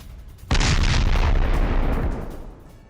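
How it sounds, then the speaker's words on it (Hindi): A single sudden, powerful explosion erupts and rumbles in a war zone in Melitopol, its roar slowly decaying over a couple of seconds. "एक के बाद एक 4 धमाके हुए"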